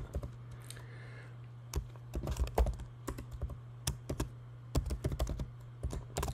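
Typing on a computer keyboard to enter a policy name, a close sequence of quick clicky keystrokes in irregular bursts over a steady low hum, with no talking.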